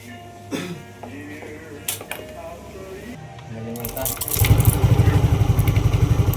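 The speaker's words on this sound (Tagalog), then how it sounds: "ngayon papaandarin ko na itong motor" After a few clicks and clunks, a Yamaha Aerox 155 scooter with an Error 12 fault cranks and fires up, then settles into a loud, close, rhythmic idle.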